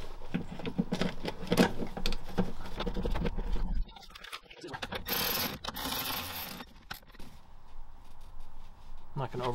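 A ratchet tightens bolts on a swivel seat adapter in a Sprinter van conversion, clicking mechanically in short runs up close, with a person talking over part of it.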